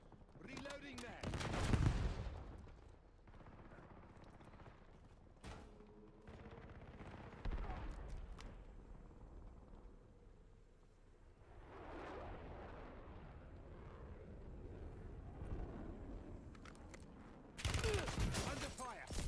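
Bursts of automatic gunfire and explosions in the battle-royale shooter Warzone, loudest at the start and end, with scattered shots and a low rumble between and a voice talking over the action.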